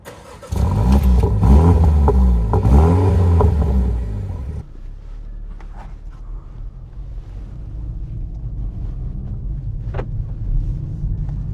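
A BMW M135i M Sport engine fires up with a loud roar and a quick rev, then drops to a steady low idle rumble that carries on alone with faint wind noise.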